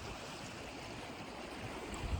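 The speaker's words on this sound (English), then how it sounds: "I'm like listening to the not so loud stream." A small, gentle stream flows near a waterfall in Iceland, giving a steady, soft broadband rush of water with no distinct splashes and no talking.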